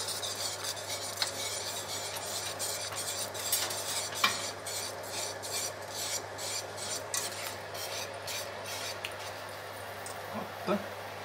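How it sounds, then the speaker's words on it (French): A spoon works through blanquette de veau in a pot, making continuous close scraping and rubbing strokes in an irregular rhythm with a few sharper clinks against the pot. "Et je mélange."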